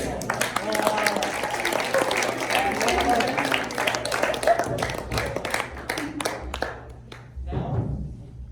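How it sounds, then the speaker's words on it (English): A round of applause from an audience at a student talks event, steady clapping with a murmur of voices beneath that fades out in scattered claps toward the end, followed by a speaker starting. "Let's give Noah another round of applause."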